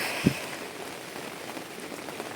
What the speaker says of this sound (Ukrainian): дуже в нас холодно, ліє дощик